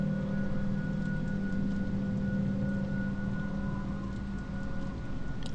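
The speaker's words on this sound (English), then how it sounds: "Oh, it's raining now." Steady rain falls in the video game Fatal Frame: Maiden of Black Water as an even, hissing wash that never lets up, with a faint tonal hum underneath and no voices.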